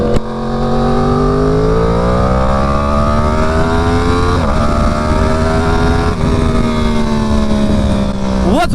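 Loud Yamaha R1 superbike engine revving up and down continuously, pitch climbing and falling in long sweeps with brief blips, close and unbroken.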